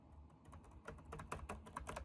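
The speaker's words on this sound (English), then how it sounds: "I am trying to type," Rapid clicking of keys being typed on a Windows 11 laptop keyboard, a close, irregular patter of taps that grows busier toward the end, with no voices.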